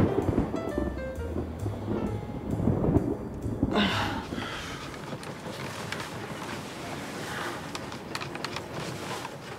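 A thunderstorm with wind and rain rumbles and roars steadily, with a heavy burst partway through and continuous noisy gusts afterwards, loud and close with no talking.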